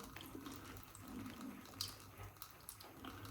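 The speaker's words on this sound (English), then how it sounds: "but we'll just add a little bit more water" A faint, steady trickle of running water pours into a shaving bowl of soap, with a few small drips and clinks, no talking.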